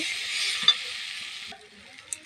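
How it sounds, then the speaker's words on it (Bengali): Potato and dried hilsa are stirred and fried in a pan: a steady sizzling hiss with a couple of light scraping clicks, dropping away abruptly partway through and leaving quieter ticks. "ভালো করে নাড়াচাড়া করে নিচ্ছি"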